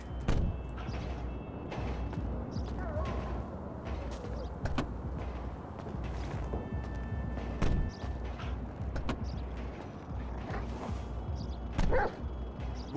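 Chop the dog barking in Grand Theft Auto 5, a few short barks and yips spread out over a background of street noise and creaks.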